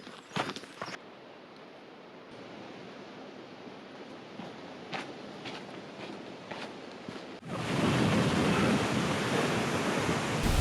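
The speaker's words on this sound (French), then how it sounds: "nous sommes arrivés à un coin de cascade, un coin assez puissant comme vous pouvez le voir" A powerful waterfall in a natural outdoor spot, its rushing roar swelling loud and dense after a quieter stretch of rustling footsteps and handling knocks, with no talking.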